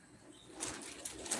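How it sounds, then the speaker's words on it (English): Two pet parakeets call softly indoors, a few faint brief chirps and coos at close range against a quiet room. "Come on, birds."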